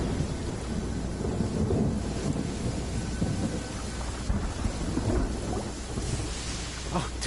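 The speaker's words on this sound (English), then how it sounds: "Começou a chover." Steady rain with rolling thunder fills the scene in Genshin Impact, a dense continuous wash of downpour punctuated by low rumbling swells, loud and close with no voices.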